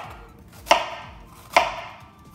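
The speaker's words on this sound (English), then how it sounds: "So I'm chopping this a little bit" Two sharp knife chops on a cutting board while preparing salsa roja ingredients, spaced about a second apart, close and clear with a quiet background.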